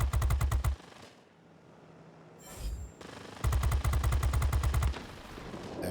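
Rapid bursts of .50 caliber machine-gun fire from a Twin Mustang aircraft in World of Warplanes, a long rattling burst, a brief lull with engine drone, then another sustained burst.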